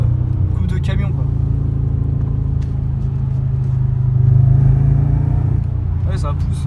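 Deep, steady engine rumble from inside a supercharged BMW M5 E60, swelling as it pulls harder at around 2,000 to 3,000 rpm, with people talking over it throughout.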